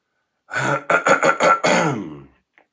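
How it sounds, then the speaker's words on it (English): A single drawn-out throat clearing, close and fairly loud, with a few rough bursts in a row and no talking around it. "I clear my throat."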